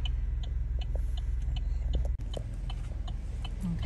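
Car hazard flashers tick in a steady, even rhythm inside a parked car, soft and close over a low idling rumble, with no talk.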